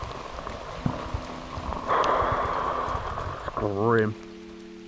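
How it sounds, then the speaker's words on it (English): Heavy rain drums steadily as a broadband wash through a lakeside fishing trip, with a person speaking briefly over it and a short rising tonal squeal near the end. "I've not known rain like this in a long time."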